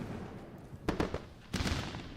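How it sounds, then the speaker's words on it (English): Fireworks sound effect played during a live trading stream: two quiet bursts of crackling pops, each roughly half a second long with a brief pause between them, heard alone against a low background hum. "We are running the fireworks."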